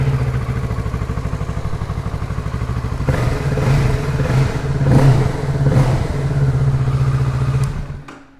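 A 2018 Kawasaki Ninja 650 ABS parallel-twin motorcycle idles with a steady loud thrum, then is revved several times in sharp rising bursts before the engine cuts off, close and with no talk.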